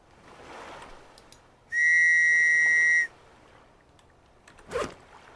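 A single sustained whistle blown in the survival video game Stranded Deep sounds loud and steady for about a second, clear and alone against quiet ambient game noise, followed later by a brief soft rustle.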